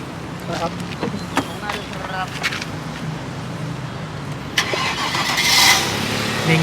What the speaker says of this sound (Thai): เดี๋ยวไปดูเครื่องยนต์กัน สตาร์ทหน่อยสิน้อง